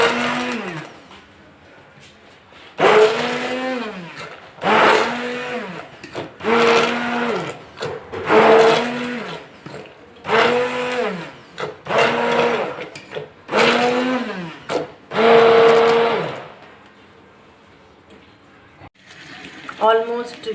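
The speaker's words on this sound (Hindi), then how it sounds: "अब इसको भी ब्लेंड कर देना है, आप ब्लेंडर में पीस दें इसको।" A blender purees cooked spinach for chicken palak in a run of short, loud pulses, each one whirring up and dropping away, with brief gaps between bursts.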